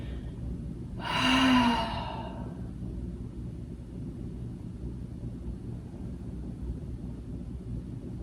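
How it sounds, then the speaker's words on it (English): A single deep breath, a long sighing exhale, rises briefly while someone lies on their belly during a pranayama yoga session, then fades into a quiet, steady room hum. "Take a couple of breaths here on the belly."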